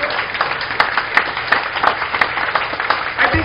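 A church congregation claps together in praise during a service, a loud, steady crowd applause with sharp individual claps standing out throughout.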